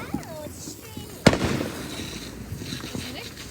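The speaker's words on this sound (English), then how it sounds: "Just look at any fireworks around us." Distant fireworks burst in the open air: one sharp, loud crack stands out, followed by scattered lighter pops and crackles, with muffled people's voices in the background.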